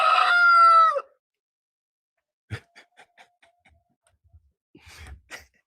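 A rooster's loud, close crow opens, followed by quiet scattered clucks and soft shuffling noises from chickens after a pause.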